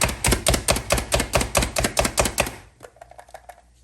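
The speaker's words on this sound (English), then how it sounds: "It's like in 30 seconds you got all your shrooms chopped." Mushrooms chopped with a hand-operated Zylizz veggie chopper: a fast, steady run of about twenty sharp, close clacking strikes that stops abruptly, leaving a quiet tail with a few faint knocks.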